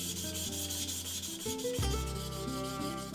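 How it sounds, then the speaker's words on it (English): A handmade Echizen steel knife is sharpened on a whetstone indoors, making a continuous close scraping rub over faint background music, with no speech. "After finishing his meal, he began sharpening a knife in his room."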